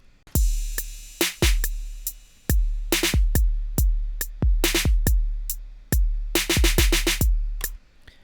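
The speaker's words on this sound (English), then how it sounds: "basic drum sound called Trapdoor, and it sounds like this by itself" A basic drum pattern called Trapdoor, played dry: a steady beat of punchy kicks and crisp snare and hat hits in regular rhythm, loud and close with no other sound.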